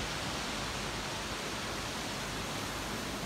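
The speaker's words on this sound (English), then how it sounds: "the waves are quite, they've calmed down since yesterday" Ocean waves wash below a hotel in Tenerife, a dense steady hiss of surf filling the whole span without a break, loud and close, with no voices.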